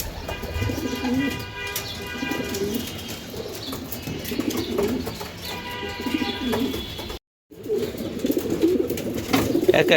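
Racing pigeons coo repeatedly at a pigeon farm, soft throaty calls layered with chirps and occasional wing flutters, a voice speaking now and then over the flock before a brief dropout.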